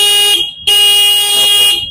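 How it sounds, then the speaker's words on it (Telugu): Horn of a budget 2025 electric scooter sounding loud and close: a sustained steady electronic tone, a brief break, then a second long blast, with no talk over it. "ఒకసారి మళ్ళీ హార్న్ ఇవ్వండి."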